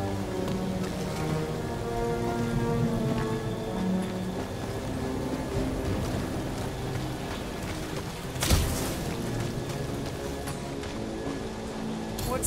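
Steady heavy rain falls through a storm on a barren, hostile alien planet in Guardians of the Galaxy, with distant rumbling beneath and one sharp thunder crack about two-thirds of the way through, no voices heard.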